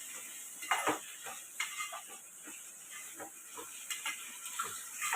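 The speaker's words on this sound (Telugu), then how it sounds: "పోసి పచ్చిమిర్చి వేసి దాంట్లో ఉల్లిగడ్డ వేసి కరివేపాకు వేసి వేయిస్తున్నాము" Onions fry in oil with green chillies and curry leaves while being stirred, producing a soft, constant sizzling hiss broken by repeated quiet scraping strokes of the spoon in the pan.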